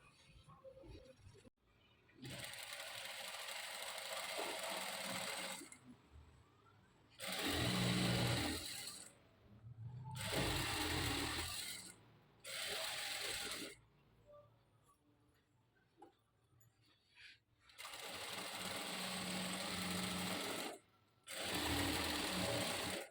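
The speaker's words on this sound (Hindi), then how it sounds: "अब हम आपको सेंटर से सिलाई चलाकर दिखाते हैं।" A sewing machine stitches lined straight pants in several steady mechanical bursts of rapid whirring, broken by short pauses as the fabric is repositioned. The machine is close and fairly loud.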